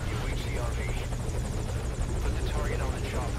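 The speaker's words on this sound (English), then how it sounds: "The chopper's already there waiting for me" A helicopter in the video game Metal Gear Solid V: Ground Zeroes hovers with a constant low rotor thump and engine whine, loud and close, while someone talks over it.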